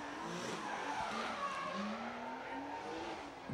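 Drift cars sliding through a sweeping turn at a pro drift event at Motegi, with sustained tire skid squeal rising in pitch over a steady engine roar, heard at moderate distance.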